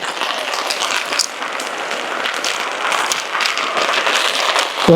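Rainwater runs off after a downpour with a steady, broadband rushing and spattering that holds fairly constant and close for the whole stretch.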